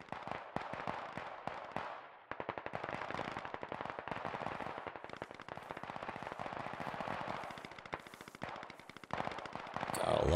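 Rapid bursts of gunfire in the military shooter game Squad crackle almost continuously, dense automatic fire with overlapping shots, loud and sustained across the whole stretch.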